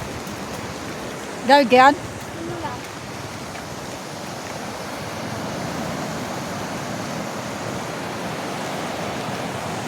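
Strong floodwater rushes past nearby houses in a steady, dense roar that continues throughout, with a brief voice speaking near the start.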